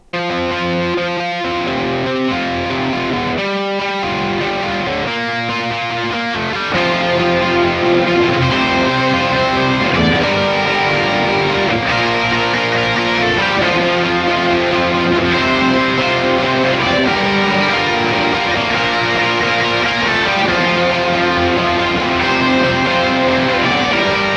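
Distorted electric guitar, a Jazzmaster-style partscaster through a Marshall amp model on a Kemper, plays a continuous multi-part riff with a shimmering chorus and reverb wash, loud and steady with no voices.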